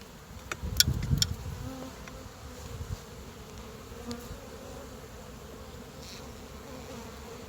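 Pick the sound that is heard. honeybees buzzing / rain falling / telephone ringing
honeybees buzzing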